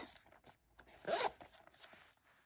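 A single quick zipper pull, a short bright rasp lasting about a quarter second, close and clear against quiet background rustling.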